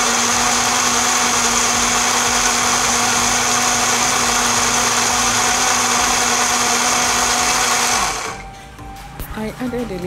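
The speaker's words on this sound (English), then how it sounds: "Then put it in the blender, add water, and then blend." A blender whirs loudly and steadily for several seconds blending eggplant with water, then winds down and stops, leaving faint clattering.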